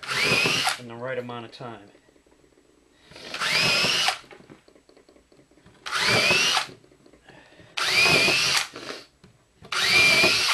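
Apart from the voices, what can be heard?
power drill pre-drilling holes in wood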